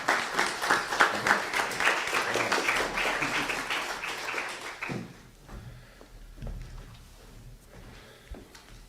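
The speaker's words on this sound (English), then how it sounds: "Let's give them a round of applause" Audience applause in a church sanctuary at a Church of the Brethren gathering, dense clapping for about five seconds that then thins to a few scattered claps and faint room noise.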